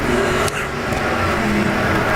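IMCA modified race cars roar around a dirt speedway at Arizona Speedway, a dense, steady engine drone from several cars racing down the back straightaway.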